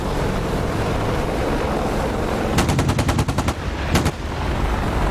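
Gunfire in a military war game depicting a US air-defense suppression strike on a Russian SAM network. A rapid burst of automatic fire rattles out, then a shorter second burst follows, over a constant wind-like roar.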